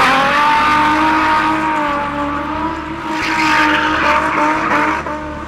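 A 3.5-litre V6 drift car engine revs hard and steadily throughout, loud and close, its pitch climbing and easing with faint tyre squeal mixed in, no voices.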